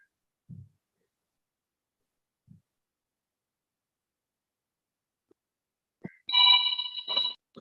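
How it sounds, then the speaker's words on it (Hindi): A phone rings during an online meeting, a short bright electronic ringtone burst near the end after mostly quiet, with a few faint knocks before it. "फोन आ गया।"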